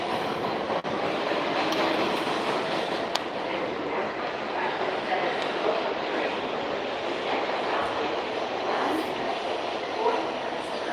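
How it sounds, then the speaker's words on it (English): A New York City 7 subway train at night, a dense continuous rumble and rattle of cars on the rails with occasional clicks and faint squeals, steady and close throughout, with some talk underneath. "I'm about to get on this 7 train"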